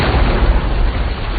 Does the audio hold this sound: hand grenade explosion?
yes